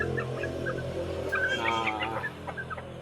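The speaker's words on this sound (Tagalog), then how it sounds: "Tapos ito naman yung mga Black Australorp natin" Black Australorp chickens cluck in short, scattered bursts over a low steady background hum, fairly close, with a single faint spoken word mixed in.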